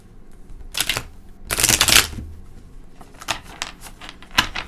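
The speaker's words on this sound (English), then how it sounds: "Yeah, that was not a good shuffle." Tarot cards being shuffled by hand, with sharp riffling bursts and crisp flicks close to the microphone, separated by quieter pauses and a few isolated snaps.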